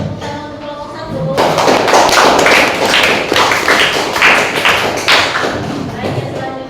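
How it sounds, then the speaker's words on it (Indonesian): Classroom audience applauding a student group after their presentation in a Qur'an and Hadith lesson; brief murmur first, then dense, loud clapping that fills the room and continues steadily to the end. "berikan tepuk tangan untuk kelompok 1"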